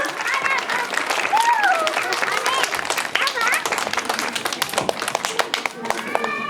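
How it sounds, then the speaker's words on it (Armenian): An audience claps in congratulation at an Oki Doki children's centre in Avan, with a dense, steady patter of many hands running the whole time and children's voices and chatter mixed in. "Այո, ծափահարենք եւ ծափերով շնորհավորենք նա։"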